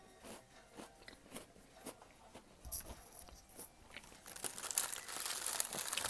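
Crunchy peanut butter chocolate Girl Scout cookies bitten and chewed close up, soft repeated crunches building into louder crinkly crunching near the end.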